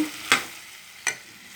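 Two quick spatula scrapes through a pan of fish and tomato curry just dosed with masala, each a short, sharp stroke separated by a pause over a faint background hiss.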